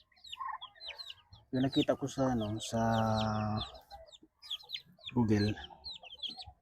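Chirps and clucking calls from a Livorno bantam chick, still only a chick, come through at close range, mixed with someone talking in the foreground.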